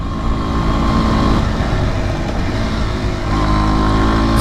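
A 2019 Kawasaki Z125 motorcycle engine pulls hard at high revs, its loud, close whine dropping briefly in pitch around a gear change before climbing again.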